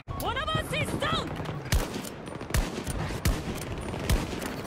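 Gunfire in the video game Battlefield 2042: several sharp, loud shots spaced about a second apart, following a short burst of chirpy electronic game sounds, with no talk.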